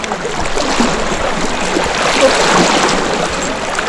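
Water runs steadily along a stream, a continuous close hiss and gurgle with no voices, holding an even level for the few seconds.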